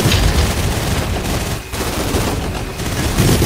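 Shotgun blasts in the shooter video game Gun Raiders, a dense, loud barrage of overlapping gunfire and impacts running through the whole stretch without a break.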